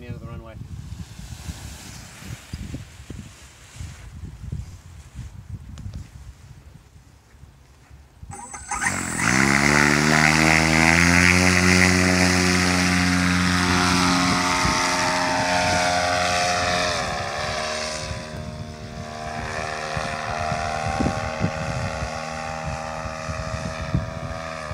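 A homemade prototype paramotor's engine and propeller run up loudly at the end of a runway, starting abruptly after a quieter stretch with wind noise and holding as a steady, droning roar with strong harmonic tones, with brief talk nearby.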